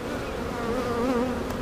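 Honeybees buzz steadily and close around a hive frame during a brood inspection, a continuous droning hum with wavering pitch filling the whole moment, no voices.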